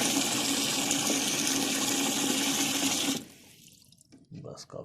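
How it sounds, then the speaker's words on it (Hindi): Water pours steadily and loudly into a pot for boiling pumpkin for halwa, about three seconds, then stops, leaving quiet clinks and handling sounds. "अभी मैं इसमें डालता हूँ पानी, इसको उबालूंगा"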